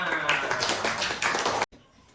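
Students in a classroom clap together in a brief burst of brisk, uneven handclaps that stop abruptly, followed by a quiet room.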